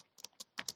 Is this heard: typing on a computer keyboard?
yes